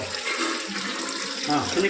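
Water runs hard into a clogged kitchen drain pipe, a close, continuous rushing flow, while people talk over it.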